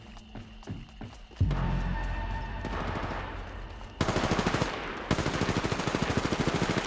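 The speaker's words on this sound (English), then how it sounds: "I'm spotted, taking fire." Automatic weapon fire in the battle-royale shooter Apex Legends, with rapid sustained bursts that start after a few scattered clicks and continue through the second half, loud and close, with brief gaps between bursts.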